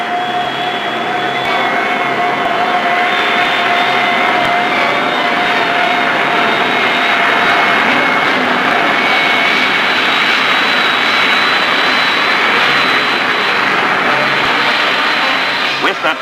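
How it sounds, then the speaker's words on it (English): The first American jet plane, on archival flight film from 1942, produces a steady, loud jet-engine roar with a whining high tone that persists throughout, broad and continuous with little variation. "These are the original films of the first jet plane ever to fly in America."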